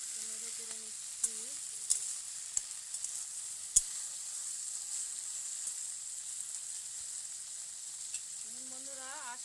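Small fish fry with taro stolons in hot oil, giving a continuous close sizzle with occasional sharp pops and scrapes of stirring. Soft speech comes in briefly at the start and end.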